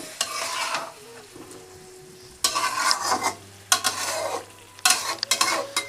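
Aubergine pickle curry stirred in a pan with a spatula, bursts of scraping and sizzling in three main rounds separated by short pauses, close and fairly loud.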